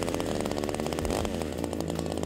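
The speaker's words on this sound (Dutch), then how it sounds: "zet de rem erop en dan kunt u de motor met startkoord aantrekken" A LEA 25 cc top-handle chainsaw engine, started with its pull cord, runs loud and close with a steady buzzing two-stroke drone, rising briefly in revs before settling back.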